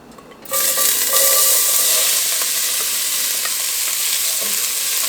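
Carrots and onion hit a pan of melted butter for a shepherd's pie: after a brief quiet moment, a loud, close sizzle bursts up and holds steady, with no talking.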